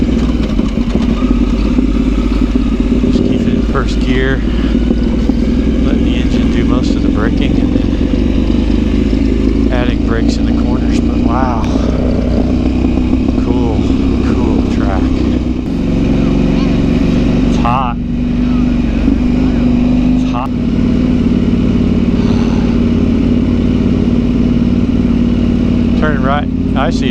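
A KTM 890 Adventure R motorcycle engine labours in first gear climbing a steep sandy slope, a loud continuous rumble with clattering, while a rider talks intermittently over it.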